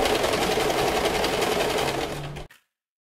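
Sewing machine stitching a bra cup seam, a loud, dense, continuous mechanical whir that runs about two and a half seconds before stopping abruptly.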